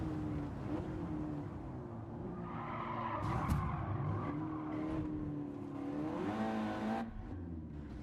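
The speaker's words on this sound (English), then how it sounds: "I'm at 113 right now, and I'm redlining it." Race car engine held high near its limit in a racing video game, a sustained loud whine with shifting pitch and some tire skid noise, continuous throughout with no talking.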